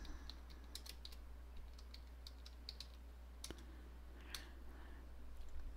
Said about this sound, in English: And we're going to type the word island paradise.